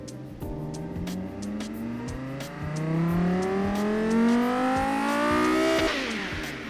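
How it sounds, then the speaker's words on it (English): A simulated Viper-style sports car engine in the video game Automation revs up steadily, pitch climbing through the gears with a rising roar, then drops off sharply near the end; loud and close. "it should sound a little bit like a Viper, but then it starts revving up"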